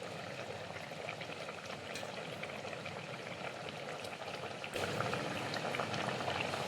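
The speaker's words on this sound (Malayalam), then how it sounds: "അപ്പോൾ നമ്മുടെ മസാല നല്ല വൃത്തി തിളക്കാൻ തുടങ്ങിയിട്ടുണ്ട്." Masala for a sardine curry boiling in a pan, a dense continuous bubbling and spitting close up, growing a little louder near the end.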